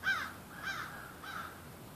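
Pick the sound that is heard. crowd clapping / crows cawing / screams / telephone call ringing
crows cawing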